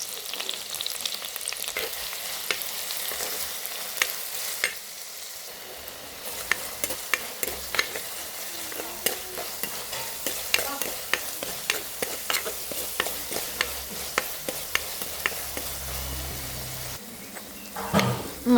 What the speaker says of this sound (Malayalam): നമ്മുടെ ഉള്ളിയും ഇഞ്ചിയും വെളുത്തുള്ളിയൊക്കെ ഒന്ന് വഴണ്ടിട്ടുണ്ട്.